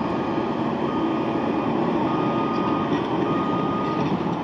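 A 5-ton truck rolls along with steady engine rumble and road noise, its reversing beeps sounding faintly throughout in a continuous, even mix.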